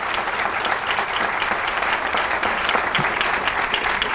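Steady applause from a crowd at a college dedication and ribbon-cutting event, continuous dense clapping throughout with no talk.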